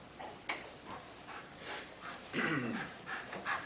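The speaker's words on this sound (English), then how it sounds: "Nice dog." A police canine pants softly during a city council meeting, giving quiet, rhythmic breaths with a faint whine and a few small knocks in an otherwise hushed room.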